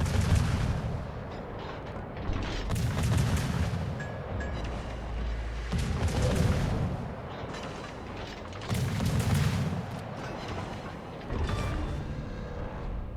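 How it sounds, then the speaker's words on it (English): Naval battle in World of Warships where an enemy destroyer blows up: repeated heavy booms and rumbling blasts roll in waves over a continuous loud roar of gunfire, with no talk. "Enemy destroyer blown up."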